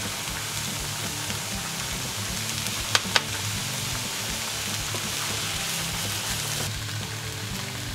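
Mushrooms sizzle steadily as they fry in a pan, a continuous close crackle with a couple of sharp clicks partway through and no talk.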